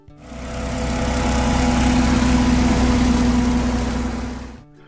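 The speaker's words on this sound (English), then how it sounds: "the Ford 8N tractor" A Ford 8N tractor engine running, a steady droning idle with a strong low hum that starts abruptly, holds evenly, then fades out at the end.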